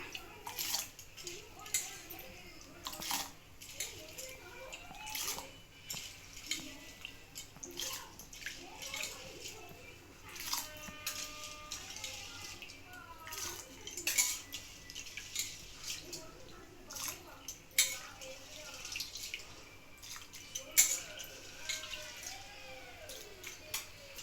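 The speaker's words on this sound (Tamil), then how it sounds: "இப்போ நான் வந்து இருபது நிமிஷம் ஊற வச்ச அரிசியை இதில் போட போகிறேன்" Soaked rice for sweet milk pongal is tipped into a pot, giving wet pouring, splashing and dripping sounds in bursts alongside scattered clinks, with a person talking over parts of it.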